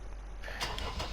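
Deutz-Fahr tractor engine starting in Farming Simulator 19, a quiet low rumble that turns over into a louder broadband mechanical roar about halfway through and keeps running steadily.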